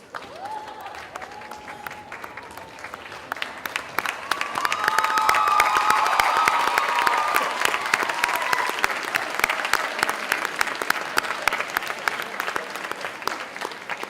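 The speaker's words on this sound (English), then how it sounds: "give them the loudest applause and cheer of the day" Graduates at the 2016 SHATEC graduation ceremony give a long round of applause and cheering from a large crowd, rising to a louder swell of cheers midway, then continuing as steady clapping.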